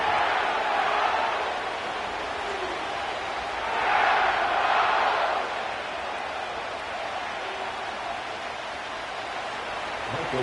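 Stadium crowd at SoFi Stadium in Inglewood in the Madden 24 NFL football video game, a steady broadband roar of many voices that swells briefly in the middle and then settles.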